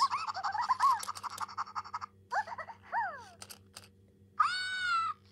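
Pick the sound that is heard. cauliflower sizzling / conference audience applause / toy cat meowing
toy cat meowing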